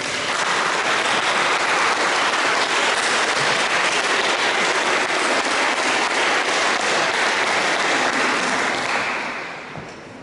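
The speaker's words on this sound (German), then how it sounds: "Ich würde auch einen Applaus geben" Sustained applause from a church congregation for the choir at a feast-day Mass for the Assumption in Tiefenbach, dense and steady clapping filling the room for about ten seconds before tapering off at the end.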